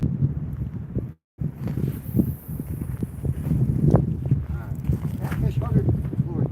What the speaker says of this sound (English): A little bit of wind. I'll have to deal with the wind.